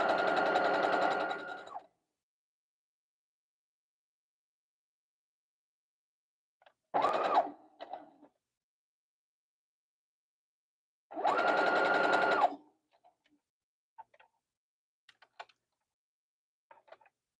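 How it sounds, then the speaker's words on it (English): A sewing machine stitches the curve of a Regency ball gown in short bursts: a steady whirring run, a brief burst, then another sustained run, with quiet clicks and handling noises in the silent gaps. "Being careful to only sew these two layers together and not"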